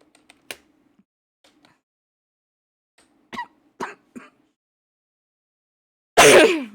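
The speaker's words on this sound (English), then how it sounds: "the cold weather has me coughing a lot" A person with a cold coughs in a few short, sharp bursts with long quiet gaps between them, ending in one heavier, louder cough, close to the microphone with no talking.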